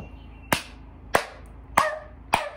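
Four sharp hand claps land at an even, unhurried pace, crisp and close with quiet gaps between, done in imitation of a seal.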